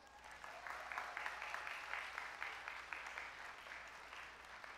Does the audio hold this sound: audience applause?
yes